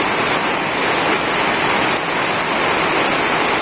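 Heavy rain pours down in a Bangladeshi village, a dense, loud, unbroken hiss of drops drumming on surfaces close by with no pauses.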